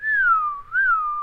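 A voice whistles to imitate an amulet being swung around overhead, giving one smooth, wavering whistle that dips and rises again, close and clear, with nothing else heard.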